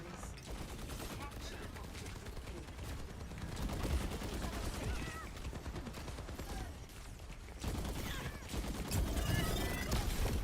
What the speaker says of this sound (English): Who the fuck is shooting me from the side?